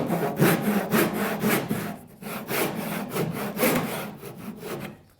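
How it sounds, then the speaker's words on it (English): A hand ship-saw cuts a wooden scarf joint for the caps of a V-bottom skiff, with steady rhythmic rasping strokes, close and moderately loud, pausing briefly midway before resuming. "use the tip of your saw because it's easier to cut it without making a radius"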